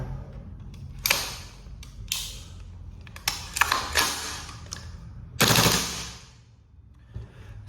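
VFC URGI gas blowback airsoft rifle fitted with a real steel buffer spring, firing several sharp, loud shots in an irregular rhythm, each with a snappy mechanical clack of the bolt, close to the listener.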